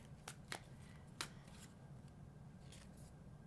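Tarot cards being shuffled by hand, a few quiet crisp riffles and slaps spaced irregularly over a soft background hum, close and faint, with no talking.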